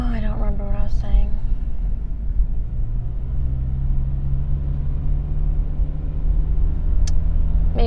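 A car engine droning steadily while driving, a constant low rumble heard from inside the cabin, with a person talking briefly over it at the start.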